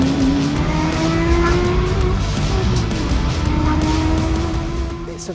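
A Porsche 997 GT3 engine revs hard on the road, a loud, steady, close howl that climbs high with a rising tone and holds, with some tire noise beneath.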